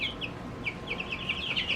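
Ginger broiler chickens, about 25 in a pen, give soft, repeated clucks and chirpy calls at close range over a low background hum.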